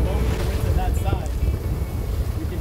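A sailboat heels along in strong wind, with heavy gusts buffeting the microphone and water rushing past the hull; a person talks over the roar.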